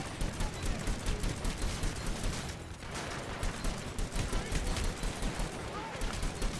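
Gunfire in the video game Hitman Absolution, dense rapid shots in a near-constant barrage with a brief lull midway, loud and close, with a voice talking over it.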